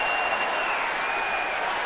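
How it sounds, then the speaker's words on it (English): Stadium crowd at an NFL game between the Green Bay Packers and Chicago Bears, a broad wash of cheering and applause that holds steady and fairly distant for a couple of seconds. "And now that the crowd gets into it,"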